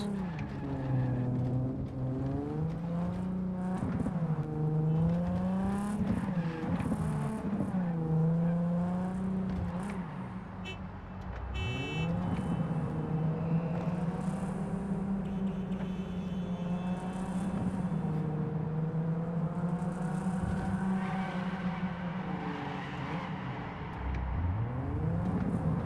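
Car in Cyberpunk 2077 driving and accelerating, a steady engine drone whose pitch climbs and falls with repeated revving, loud and continuous throughout with no talk.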